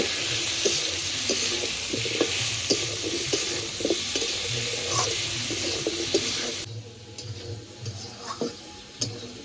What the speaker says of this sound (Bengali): এবার সব কিছু হালকা করে একটু ভেজে নেব